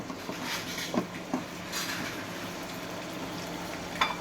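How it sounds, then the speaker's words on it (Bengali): Fried prawns and spices, cooked with taro flowers, stirred in a pan: soft scraping and occasional clinks of a utensil against the metal over a low sizzling hiss, with no talking. "আবারও একটু ভালোভাবে লেড়ে দেব যাতে করে চিংড়ি মাছের ভিতরে মশলাটা যায়"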